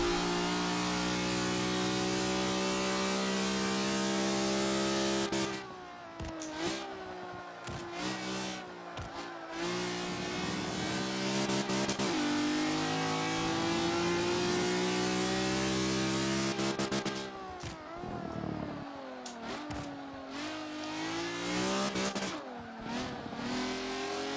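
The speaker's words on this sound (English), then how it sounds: "That's a really good sounding car." A tuned car engine revs hard and loud, several times, rising in pitch and falling back to idle between bursts, close by with no talking over it.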